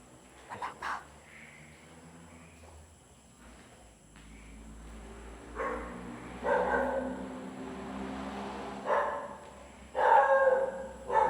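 A dog barking at night near an abandoned school, several sharp barks in bursts, distant at first and then louder and closer toward the end, over a quiet background.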